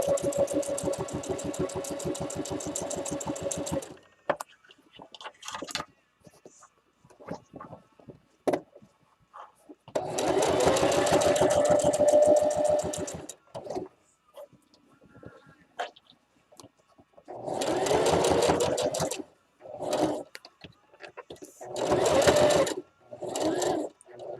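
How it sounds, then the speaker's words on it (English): A heavy-duty sewing machine whirs in long bursts through thick layers of fabric for an Easter basket, then in shorter stop-start runs as it stitches, with brief pauses between. "This is where the heavy-duty sewing machine comes in handy because it's trying to go through all the fabric"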